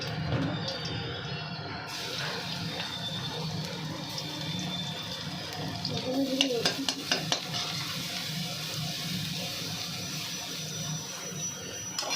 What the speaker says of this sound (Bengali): প্রথমেই তেলটাতে যেটা দেবে সেটা হচ্ছে রসুন কুচি